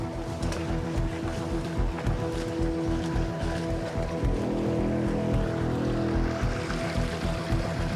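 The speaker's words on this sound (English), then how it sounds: "It's a little waterfall." Continuous rushing, splashing water close by from a small waterfall, a steady broadband roar like a small cascade, with a low mechanical hum beneath it.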